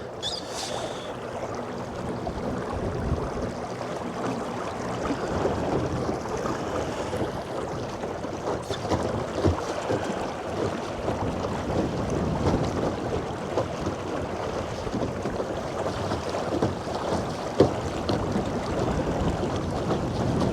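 Strong wind roars across a small modular boat out at sea on a salmon fishing trip, a loud, continuous rushing buffet with steady gusts and no talk.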